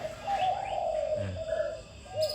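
Soft repeated spotted dove coos, a low rounded call phrase near the microphone, with faint background noise and no talking.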